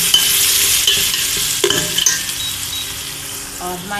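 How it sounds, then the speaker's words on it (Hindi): Spices fry and crackle in a hot pan while a spoon stirs them, with a steady loud sizzle, a few scrapes and clinks against the pan, and no talking, as coconut is added for a potato and pointed gourd curry. "इस तरह आप मसाले को बीच में चलाते रहें"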